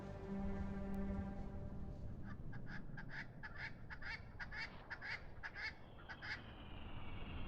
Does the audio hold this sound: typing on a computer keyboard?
no